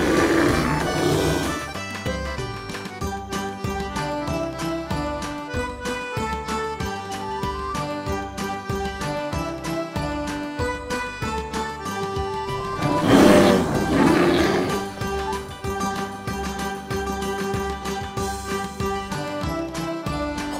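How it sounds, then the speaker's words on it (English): A bear growls in a wild-animal sound lesson for children, with deep, rough roaring bursts near the start and again midway, loud against continuous background music. "Bear."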